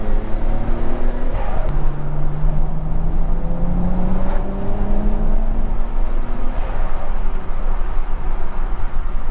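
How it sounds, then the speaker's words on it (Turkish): A Nissan Skyline GT-R without a catalytic converter, racing in a video game, drones loudly under a steady engine note that climbs through gear changes, with a couple of brief exhaust pops cracking over the roar. "Egzoz nasıl patlıyor ama?"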